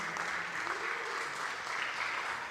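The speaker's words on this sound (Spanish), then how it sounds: "Un aplauso de corazón de nuestra hermana Joshmi" Hands clap together in a steady wash of applause from a church congregation, continuous and fairly full for a couple of seconds, with no voices over it.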